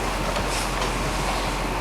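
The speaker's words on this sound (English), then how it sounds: "We hear a train." A steady, continuous rumble of a train rolling along, broadband and fairly close, with no voices.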